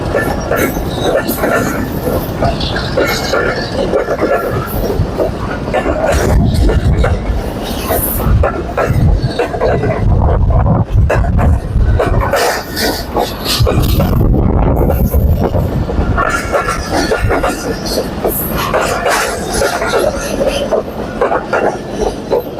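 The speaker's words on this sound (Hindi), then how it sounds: "ये ट्रेन गुजर रही है, आप ये ट्रेन देख रहे हैं।" A train rolls past a village level crossing at dusk, a loud continuous rumble of wheels and cars that fills the whole stretch, with voices talking over it.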